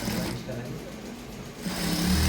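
A sewing machine stitches the side seams of a dress with a steady, continuous mechanical whir. It sounds close, and a voice talks over it the whole time.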